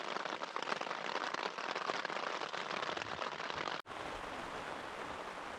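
Dense, steady rain patters hard and close on a taut four-season winter tent while wild camping in the Lake District, UK, then cuts abruptly to a softer, even hiss.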